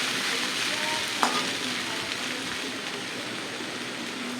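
A tempering sizzles in oil while sevai made from corn and rice is prepared, producing a steady, close hiss that lasts throughout, with one brief clink partway through.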